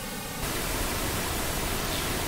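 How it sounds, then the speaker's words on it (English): Pink noise from two channels coming in at once, a dense, steady broadband hiss that starts abruptly after a brief lead-in and holds at constant level, with no talk. "We're going to do pink noise for a minute."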